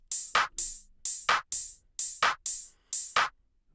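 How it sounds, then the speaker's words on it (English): Tech house drum loop with crisp hi-hats and sharp claps in a steady repeating pattern, bright and punchy, alone without talk. "We also got this little tech house loop, I think it is."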